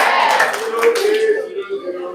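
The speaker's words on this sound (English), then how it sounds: "Let's clap for yourself." Group clapping at an anti-drug abuse campaign rally in Bomadi, Delta; a short burst of close claps mixed with voices that trails off within two seconds.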